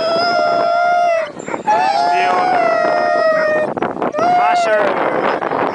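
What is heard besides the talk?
Greenland sled dogs howling at a race start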